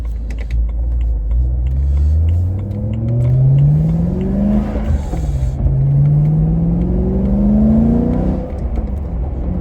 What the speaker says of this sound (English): Hear that exhaust a little bit.